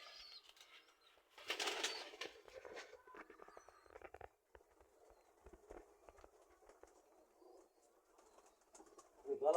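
Giribaz pigeons in a loft, heard faintly: soft cooing and scattered rustling, a brief burst of wing flapping, and light shuffling footsteps throughout.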